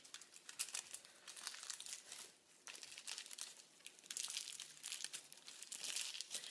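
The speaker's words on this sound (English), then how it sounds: "Fold my foil." Aluminium foil being folded during red hair colouring, giving close, quiet crinkling and crumpling in irregular bursts with short pauses, no talking.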